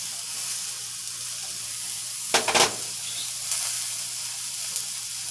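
Seasoned onions sizzle steadily on a very hot grill, a constant bright hiss with a short louder crackle partway through.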